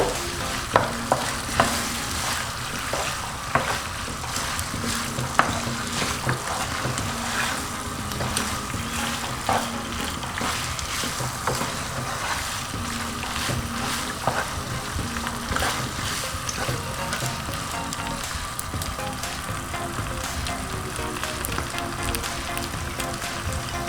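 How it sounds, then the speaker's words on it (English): Sauce for a salmon pasta bake stirred around in a hot pan, a continuous sizzle with scraping spoon strokes and small clinks, close and steady with no voices. "So I'll just give it a mix around."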